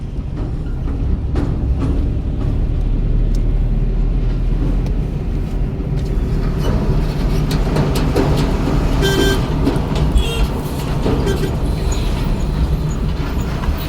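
Motor vehicle engine revving and driving, a loud continuous rumble that holds steady from start to finish, with a brief beeping partway through.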